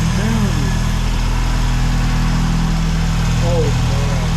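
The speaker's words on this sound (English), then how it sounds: "Dude, that thing is idling mid." A Mazda RX-7 rotary engine idles with a steady, close, even drone, while faint voices speak intermittently over it.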